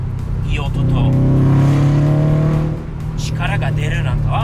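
A tuned Subaru STI engine revs loudly nearby, its tone climbing and holding before dropping back to a lower rumble, with people talking over it.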